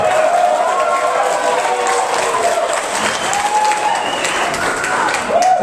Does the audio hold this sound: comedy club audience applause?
yes